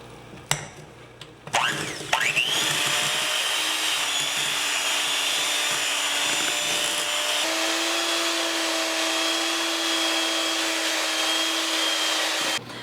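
An electric mixer runs steadily on low speed, beating mascarpone with eggs, a continuous whirring motor drone close by with a brief clatter as it starts, no talking.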